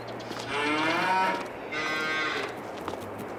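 Cattle mooing in the Farming Simulator 22 video game, with two long drawn-out moos in quick succession, fairly loud and close over a steady low background hum.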